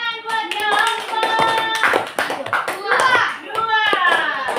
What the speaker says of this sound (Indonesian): Tepuk tangan buat jawaban.